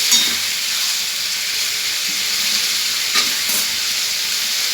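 Pieces of meat hit hot oil in a home kitchen and sizzle loudly, a constant bright hiss with steam and faint stirring scrapes, no talking.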